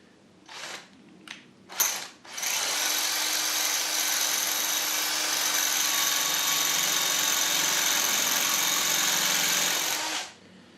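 A power drill bores into a cast part of a Harrison M300 lathe apron, starting with a few short bursts before settling into a loud, steady whine that runs for about eight seconds, then stops.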